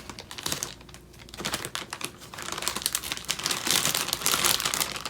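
A bag of Lay's Flavours of China chips is cut and opened, giving close, busy crinkling and crackling of the plastic packaging that continues irregularly without speech.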